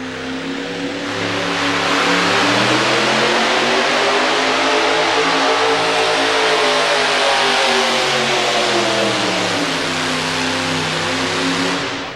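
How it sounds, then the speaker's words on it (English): A 4WD pulling truck at a truck pulling event in Louisville, Kentucky, roars loud and close, its engine revving hard and holding a sustained howl for most of the pull, rising and falling slightly before cutting off at the end. "Looks like Donnie Peden may be firing up and coming our way."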